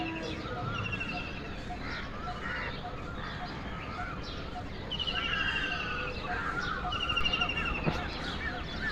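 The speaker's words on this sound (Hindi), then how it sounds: "पक्षी यार इतने अच्छे अच्छे आवाज़ देती है चारों तरफ से" Morning birdsong around a village, several birds calling from different directions with short repeated chirps and trills over a soft, steady outdoor background, fairly faint.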